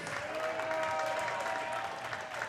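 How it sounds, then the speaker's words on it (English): Wrestling crowd in an arena applauding a wrestler, a dense steady wash of clapping with some cheering that fills the whole moment without a break. "make some noise for Bear Bronson"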